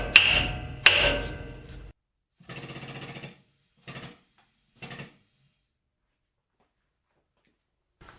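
A hammer striking a steel smart bolt with a tension indicator to center it: two ringing metallic blows with sustained ring, then three shorter, duller taps at a steady pace, followed by silence.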